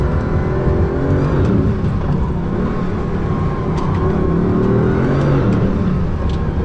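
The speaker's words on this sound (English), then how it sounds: "Behind the wheel of the Bugatti Veyron, and man, is this an unbelievable experience." A Bugatti Veyron's engine roars steadily from inside the car while driving, a loud, dense, continuous drone with no pauses or voices.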